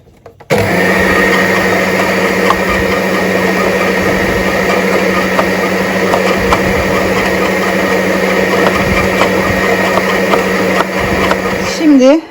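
An electric mixer whips cream, whirring at a steady pitch throughout, loud and close, starting abruptly after a brief pause.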